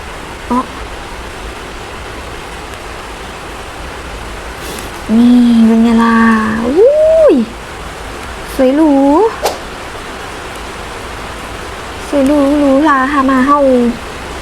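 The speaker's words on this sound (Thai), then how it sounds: "ฝนข้างนอกเริ่มตกหนักแล้วอ่ะคุณ" Heavy rain falls outside a house with many glass windows, a steady broadband hiss throughout, while a person speaks in short bursts over it.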